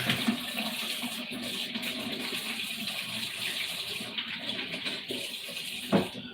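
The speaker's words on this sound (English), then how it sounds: "wash our hands first" Tap water runs steadily into a sink while hands are washed, a continuous soft gush with a slight splash near the end, no talk.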